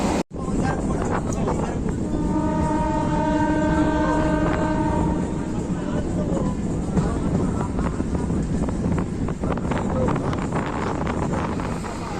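A local train on the Howrah–Amta line pulls out of a station with a steady rumbling roar, rattling carriages, a sustained tonal whine and wind buffeting the microphone.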